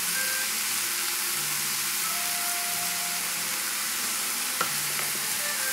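Tomatoes and garlic frying over a high flame, a continuous bright sizzle and hiss heard close up, with a brief clatter near the end and no talk.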